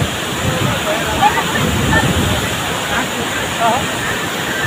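A continuous rushing roar of a waterfall at Siddhnath Dari, Mirzapur, steady and broadband, with faint voices in the background.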